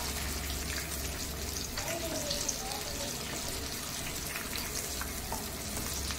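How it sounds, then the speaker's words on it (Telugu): Cut mirchi bajji frying in very hot oil, a dense, even crackling sizzle heard close up and continuing steadily throughout, with no talking. "ఆయిల్ అయితే బాగా వేడి మీద పెట్టుకొని వేసుకోవాలా"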